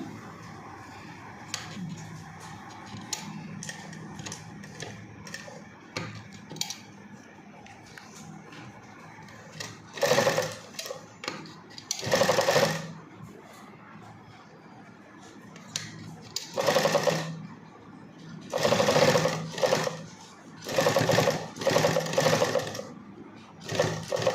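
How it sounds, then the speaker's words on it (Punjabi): A sewing machine stitches folded fabric over piping along a garment's side slits, running in several short, whirring bursts with quiet pauses between them, close up against a low room background. "ਇਸੇ ਸਲਾਈ ਦੇ ਉੱਤੇ ਆਪਾਂ ਨੇ ਸਲਾਈ ਲਾ ਕੇ ਇੱਥੋਂ ਤੱਕ ਆਪਾਂ ਨੇ ਬੰਦ ਕਰ ਦੇਣੀਆਂ ਆ"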